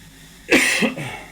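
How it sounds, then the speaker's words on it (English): A close, rough cough followed by a second smaller cough, loud and abrupt against a quiet room. "Got this cough going on."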